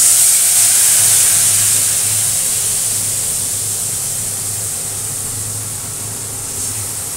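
Spice paste hitting hot oil in a pan after black cumin seeds, giving a steady, loud broadband sizzle that slowly eases off, with a faint low hum beneath and no talking.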